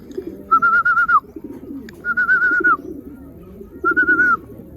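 Racing pigeons, including a blue bar, call from a loft in Vigan, Ilocos Sur after a hard race. Three sustained, steady calls sound fairly close over a low background hum.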